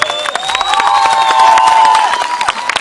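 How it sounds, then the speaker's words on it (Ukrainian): A crowd greeting clubs as they come out, loud cheering and sustained applause with shouting and a shrill whistle-like tone over the top, dense and continuous throughout. "Я дуже вас попрошу зустрічати їх бурхливими, бурхливими оплесками."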